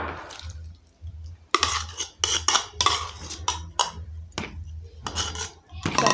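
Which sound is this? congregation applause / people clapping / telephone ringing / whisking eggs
whisking eggs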